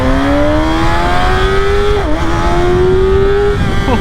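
A 2022 Kawasaki Ninja ZX-6R 600cc sport motorcycle revs and accelerates hard, its loud, high engine whine climbing steadily with a brief dip as it shifts gears, close and continuous throughout.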